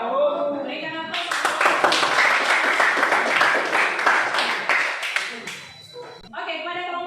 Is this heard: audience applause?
yes